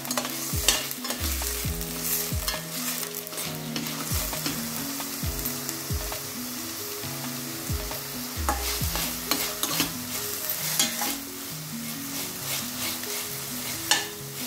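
An onion mixture stir-fried in a pan, sizzling steadily while a spoon scrapes and stirs in repeated strokes, close and loud with no talking.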